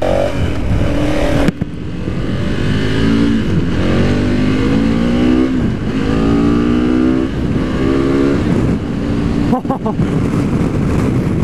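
A KTM 1290 Super Adventure motorcycle engine accelerating hard, loud and close, with the pitch climbing repeatedly through gear changes and a sharp break early on.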